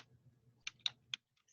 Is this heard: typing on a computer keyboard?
yes